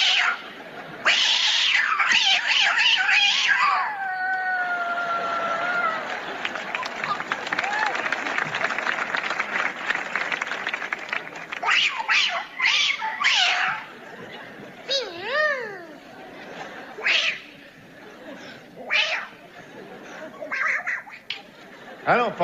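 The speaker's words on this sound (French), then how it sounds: "ça c'est les chats de Tunisie" Several cats meow and caterwaul in long, wavering yowls, sometimes overlapping and sometimes in short bursts, over a steady noisy background for about twenty seconds.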